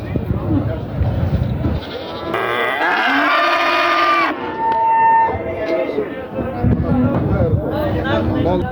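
Cattle at the Olot Friday livestock market give loud bleating and lowing calls close by, with traders' voices and crowd murmur around them.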